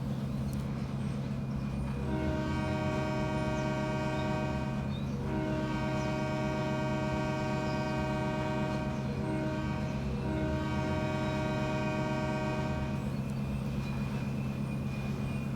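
A locomotive in a Pennsylvania railroad simulation game, heavy diesel engine drone running steadily throughout, with long sustained horn blasts sounding in several stretches over it.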